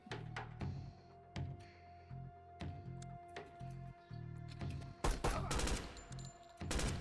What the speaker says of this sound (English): Blind fire from inside the room.